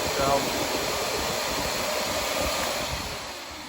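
A Shark Lift Away Deluxe vacuum cleaner runs with a steady, broad whooshing motor and airflow roar after its dirty filter was cleaned, holding a constant level throughout.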